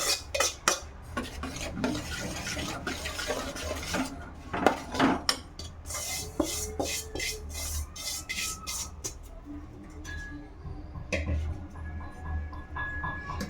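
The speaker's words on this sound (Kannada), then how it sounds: "ನೋಡಿ ಎಲ್ಲ ರವೆನೂ ಅದಕ್ಕೆ ಮಿಕ್ಸ್ ಮಾಡ್ಕೊಳ್ಳೋಣ." Roasted semolina being stirred into a mixture in a pan for a North Karnataka nagara panchami undi, giving repeated scraping and clinking of a utensil against metal in an uneven rhythm while someone talks.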